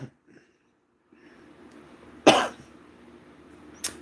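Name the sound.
cough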